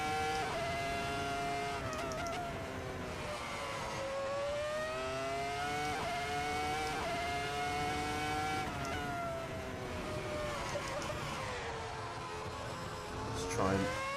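Ferrari F2004 Formula One car, Rubens Barrichello's, screaming through Imola in Assetto Corsa: a loud, close, high-pitched V10 wail rising and falling through gear changes and braking, steady and continuous with talk over it.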